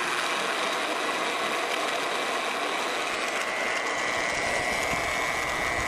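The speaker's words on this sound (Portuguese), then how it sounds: "Vamos começar a furação. Vou ligar. Regular a velocidade." A drill running steadily at adjustable speed while boring holes in a steel plate for a welding table top, a loud, continuous mechanical whir with constant vibration throughout.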